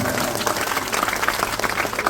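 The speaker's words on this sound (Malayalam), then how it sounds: "ഇവിടുന്ന് ഒരു കയ്യടിയോടെ അതെല്ലാവരും പാസ്സാകും" A crowd at an election campaign meeting in Vadakara bursts into applause, with uneven, lively clapping full of individual sharp claps, fairly close and loud, and no speech over it.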